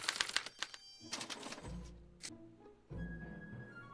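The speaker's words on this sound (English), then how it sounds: "As the responses are recorded, they're relayed to this special typewriter, which prints out a punch card that represents the subject's mind map." A special typewriter printing a punch card in the Back to the Future video game, a quick burst of mechanical clacks and a bell-like ding, followed by low whirring hums.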